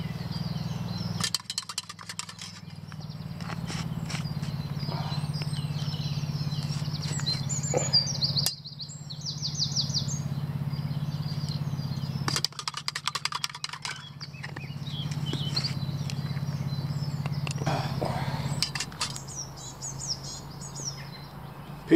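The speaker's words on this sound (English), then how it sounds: "Pigeons are chirping." Pigeons calling in woodland, with intermittent chirps and coos scattered over a steady low hum and occasional clicks and knocks nearby, fairly faint overall with no talking.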